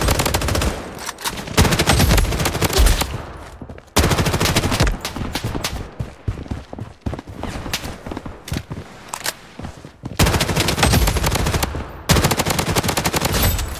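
Rapid bursts of automatic gunfire in the battle-royale shooter Blood Strike during a ranked match, loud and close, with dense rattling volleys broken by brief pauses and a few louder single shots.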